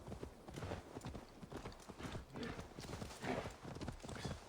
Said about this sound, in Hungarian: Most már megjött a ló.